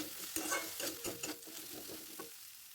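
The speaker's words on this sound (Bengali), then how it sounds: "রসুনটাকে একটু লাল করে ভেজে নেব" Crushed garlic and chopped onion frying in a pan, a soft continuous sizzle broken by several scraping stirs of a spatula, fairly quiet and close with no voices.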